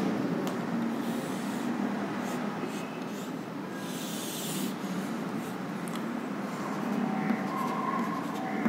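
A spillway diagram is drawn by hand, a continuous soft scratchy rubbing of a pen or marker on a surface, steady and close, with no talk over it.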